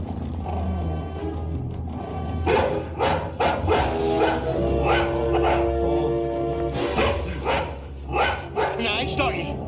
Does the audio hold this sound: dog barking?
yes